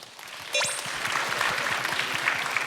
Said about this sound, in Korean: 여러분 박수 주시기 바랍니다.